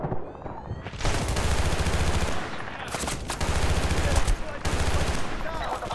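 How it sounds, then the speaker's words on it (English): Machine gun fire in Battlefield: Bad Company 2 rattles in dense repeated bursts, with a short pause between volleys, and a player talks over the shooting. "He's shooting us through the wall"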